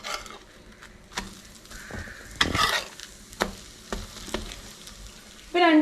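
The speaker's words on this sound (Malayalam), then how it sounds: "ഞാൻ ഫസ്റ്റ് 2 ഫ്രൈ ചെയ്ത് കാണിക്കാം. ഇനി നമുക്കിതൊന്ന് മറിച്ചിടാം." Bread masala toast made with bread and egg fries in a pan, giving a soft sizzle broken by scraping stirs and clunks as the pieces are turned over, ending in a louder burst of sizzling.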